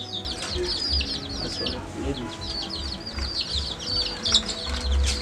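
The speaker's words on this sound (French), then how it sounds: "Poulet du village." Village chickens cluck and chirp outdoors in a continuous, moderately loud chorus of short, repeated calls over low background noise.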